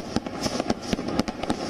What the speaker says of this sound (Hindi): स्वर्ण मंदिर में शानदार आतिशबाजी की गई है